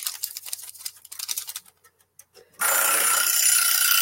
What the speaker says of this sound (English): See, the timer is ringing.